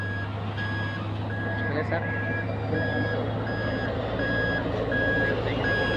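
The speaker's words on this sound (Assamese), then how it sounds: "গাড়ী অহা যোৱা কৰি আছে" Steady evenly spaced reversing beeps repeat from a truck on a road construction site, over a constant low engine drone, with a brief voice in the background.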